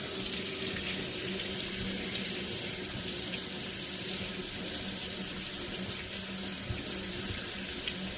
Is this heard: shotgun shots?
no